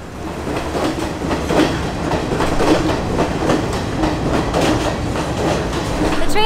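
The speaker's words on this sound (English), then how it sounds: "The train's here, let's get on." A passenger train pulls into a station in Sri Lanka on the Kandy to Nuwara Eliya route, with steady rumbling, rhythmic clickety-clack of wheels and a brief squeal of wheels near the end, loud and close.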